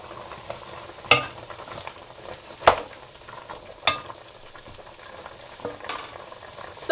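Meat with chunky onions cooks in a covered pot for Oha soup, giving a low steady simmer and sizzle broken by a few sharp clinks of a lid or utensil spaced a second or more apart.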